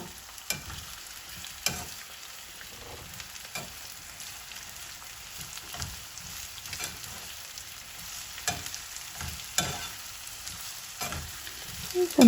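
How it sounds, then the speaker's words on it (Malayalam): Onions frying in oil in a pan for beef biryani give a steady close crackling sizzle, broken by repeated short scraping stirs, with no talking. "നമ്മുടെ ഉള്ളി ഒന്ന് ഫ്രൈ ചെയ്ത് മാറ്റാം"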